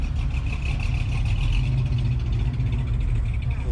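A 1971 Plymouth Road Runner muscle car idles at a car show, with a steady, deep, rumbling engine note that holds continuously and fairly close throughout.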